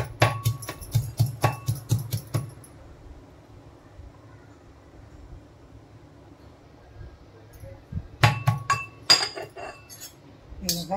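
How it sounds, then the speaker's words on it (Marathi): Four hot green chillies are pounded fine with a pestle for samosa masala. A quick, even series of clinking thuds plays in two bursts, separated by a quiet pause of several seconds. "आता हिला आपण चांगलं बारीक कुटून घेऊया।"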